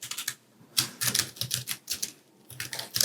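Fingers typing on a small travel keyboard give close, rapid clicking keystrokes in quick bursts with short pauses between them.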